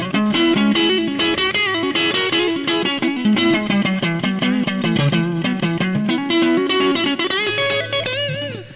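A plywood-body electric guitar with cheap pickups plays a heavily distorted run of quick notes and bends, close and loud, ending on a sustained, wavering note.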